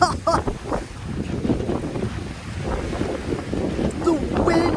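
Strong gusting wind during a thunderstorm buffets the microphone in a continuous loud roar that swells and eases, with a person's voice breaking through briefly near the end.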